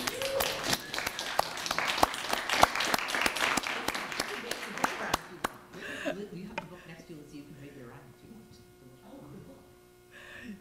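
An audience at a talk on 1920s First Ladies claps for about five seconds, a burst of sharp hand claps that fades into quiet room noise as a speaker resumes talking.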